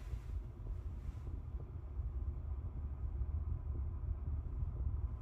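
A Panasonic WhisperComfort ERV ventilation fan runs at 40 CFM, giving off a steady low, broadband airy rumble that stays even and continuous throughout.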